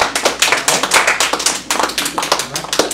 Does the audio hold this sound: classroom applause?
yes